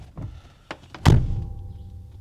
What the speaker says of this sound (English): Listen to the sound of this door closing.